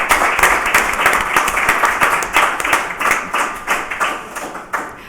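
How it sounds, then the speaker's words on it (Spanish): Audience applause at a Spanish-language book presentation, steady clapping from a room of people, fairly close and sustained throughout with no talk over it. "pues un aplauso"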